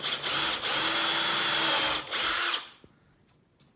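A countersink bit drills into pine with a steady, loud whine that dips briefly twice, then winds down into near silence.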